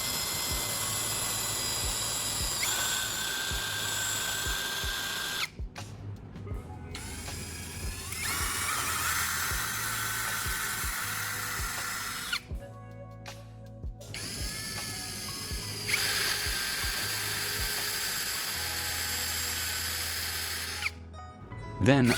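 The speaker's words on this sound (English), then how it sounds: "using a standard drill bit to create pilot holes at each of those marked spots" A hand drill boring pilot holes with a standard bit into a caster wheel clamped in a vise, steady whirring and grinding in long bursts separated by short pauses, close and loud.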